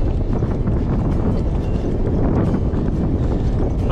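Wind buffets a microphone on a long-distance bike ride, a steady, loud, rough roar that holds without a break.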